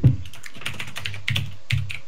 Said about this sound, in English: I might have got a really loud keyboard.